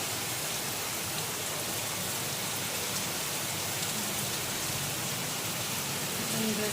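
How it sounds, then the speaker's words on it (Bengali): Heavy rain pours down steadily during a storm, a dense, even hiss of drops on surfaces that fills the whole stretch without letting up. "ঝড় বৃষ্টি শুরু হয়েছে, বেশ ভালো বৃষ্টি হচ্ছে"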